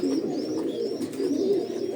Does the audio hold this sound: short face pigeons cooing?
yes